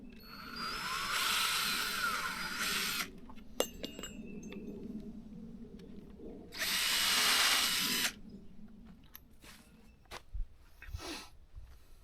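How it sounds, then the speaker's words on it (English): A power drill fitted with a 3/8 inch bit bores holes while a gate opener is installed on a driveway gate, heard as two separate loud, steady whining bursts of a few seconds each with quieter pauses between. "I have a 3/8 drill bit and my power drill."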